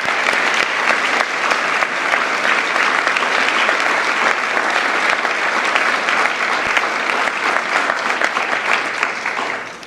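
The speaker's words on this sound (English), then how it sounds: "Please, another round of applause." Sustained audience applause at an International Women of Courage awards ceremony, a dense, steady wash of clapping from a large crowd that holds at full strength for about ten seconds before easing slightly at the end.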